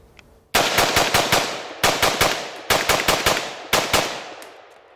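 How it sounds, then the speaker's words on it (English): A Smith & Wesson M&P15 Sport II rifle fires at a cinder block in four rapid bursts of loud, close shots, each string of several cracks separated by short pauses, with no talking. "let's shoot that cinder block up there that's, turns it into dust"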